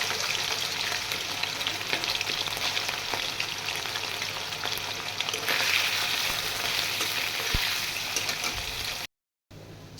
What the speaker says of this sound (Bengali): এখন আমি আগে দিয়ে দিব চিকেনটা ভেজে নেব সুন্দরভাবে